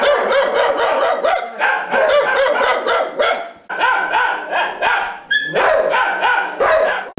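An injured dog with a damaged radial nerve barks loudly and close by in repeated bursts, with short pauses between volleys.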